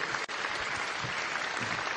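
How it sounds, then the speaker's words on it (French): Audience applauding an entrepreneur at the opening ceremony of Talents des cités, a steady wash of many hands clapping at moderate distance, continuous throughout with no voices over it. "bravo, on va l'applaudir"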